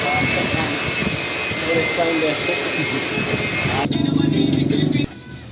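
Steady loud drone of a boat's twin engines with a high whine runs throughout, with muffled voices underneath and a brief rougher burst near the end.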